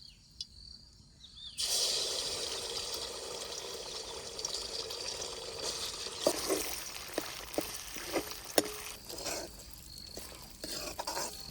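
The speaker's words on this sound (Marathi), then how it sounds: "तेल गरम झालं मसाला टाकतो." Masala paste dropped into hot oil in a kadhai over a village wood-fired stove for a spicy quail curry, bursting into a loud, steady sizzle after a quiet start, with occasional sharp clinks of a spoon stirring.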